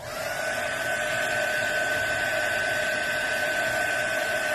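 Heat gun or dryer blowing steadily to dry paint on a paint inlay, a constant loud whooshing whine with a tonal hum, close and unbroken throughout, with no talking over it.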